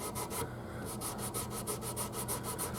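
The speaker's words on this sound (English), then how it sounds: "We'll go over it with the Scotch-Brite pad" Scotch-Brite pad scrubbing the fretboard of an old attic-found guitar in quick rhythmic back-and-forth strokes, a close, steady abrasive rasping throughout.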